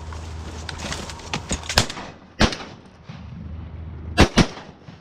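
Shotguns fire during an opening-weekend duck hunt, with sharp, loud blasts at scattered intervals, including a close pair near the end, over an outdoor background of birds and wind.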